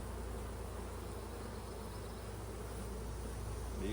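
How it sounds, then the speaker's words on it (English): Honeybees buzzing in an open hive during a frame inspection, a faint continuous drone of many insects close by, steady throughout with no talking. "New bees there, little nurse bees."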